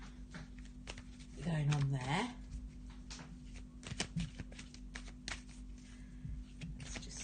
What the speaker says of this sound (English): I'm just going to have a little shuffle of the Wisdom of the Oracle cards that we've been working with lately